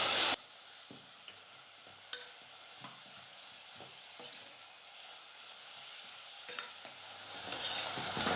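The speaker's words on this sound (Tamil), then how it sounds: "வெங்காயம் ஓரளவுக்கு இந்த மாதிரி வதங்கி லைட்டாக கலரும் மாறி வந்திருக்கு பாருங்கள்." Sliced onions and green chillies sauté in a pan for a country chicken curry, a soft continuous sizzle with occasional light scrapes and taps of a spoon stirring, fairly quiet and close.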